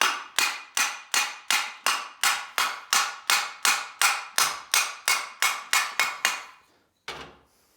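Copper-ended mallet striking a Suzuki RV125 alloy engine casing in a steady run of about twenty sharp metallic blows with ringing decay, close and loud, then a short pause before one final hit.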